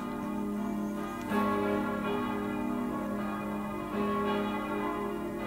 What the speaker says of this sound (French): désolé pour les cloches